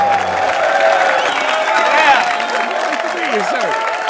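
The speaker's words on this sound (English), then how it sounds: "Please, gentlemen, give a big round of applause for Brian Holtzman." Studio audience applause and cheering on a late-night comedy show greet a guest, a dense crowd roar of clapping with whoops, loud and sustained throughout.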